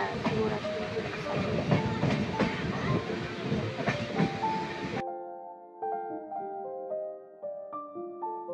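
A train pulls into Kharagpur railway station with a dense rumbling roar and rhythmic rail clacks for about five seconds, then gives way to a melodic music track.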